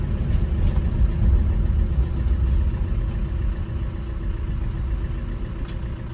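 A 1995 Land Rover Defender 90 with the 300Tdi diesel engine slowing to a stop, a steady low engine rumble and drivetrain drone heard from inside the cab, with no one speaking.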